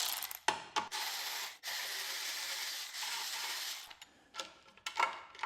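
A ratchet with a 1/4 inch socket removing long metal bolts while fitting an electric starter to a snow blower, giving fast close clicking runs broken by short pauses and a few sharp knocks.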